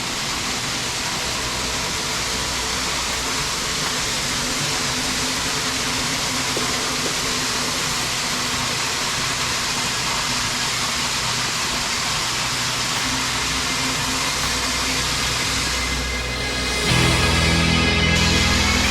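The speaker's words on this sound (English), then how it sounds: "McWater waterfall" Roaring water from McWater Falls on the Alma Lake Trail in Crawford County, Arkansas, swollen after rain and an ice storm, makes a steady, loud broadband rush that swells briefly near the end.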